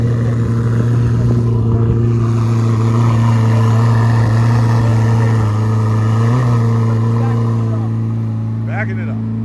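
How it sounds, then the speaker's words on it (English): A Chevrolet C8 Corvette ZR1 at an outdoor car show runs with a steady, loud low engine drone throughout, nearby and continuous, with crowd chatter and voices mixed in underneath. "you're hearing it now, the ZR1"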